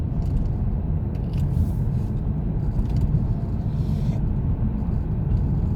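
Steady low road rumble from inside a car moving at about 30 mph, loud and constant, with faint rattles and scrapes on top and no speech.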